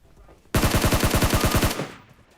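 Automatic gunfire in the video game PUBG Mobile, a sudden loud burst of about a dozen rapid evenly spaced shots that cuts off and leaves a brief fading tail, with no talking.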